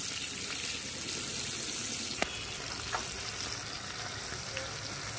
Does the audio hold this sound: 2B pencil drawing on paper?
no